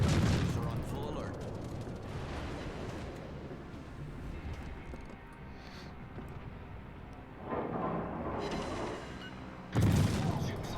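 Anti-aircraft guns blaze in World of Warships, a steady rumbling barrage of rapid bursts that thins in the middle, then swells with heavier blasts near the end.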